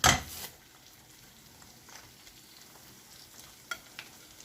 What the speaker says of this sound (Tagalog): And then, you have to add your leftover spaghetti.